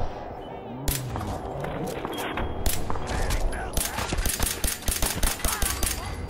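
Gunfire in the video game Fallout 4: a rapid, uneven volley of sharp shots that grows denser toward the end, with some talk mixed in.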